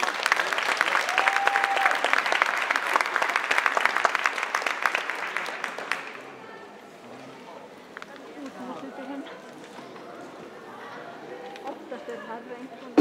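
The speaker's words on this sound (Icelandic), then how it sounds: "Gefum við gott klapp." Spectators at an Icelandic team gymnastics championship give loud, dense applause in a large hall for about six seconds, then it drops away to quieter crowd murmur and scattered noise with talk in the background.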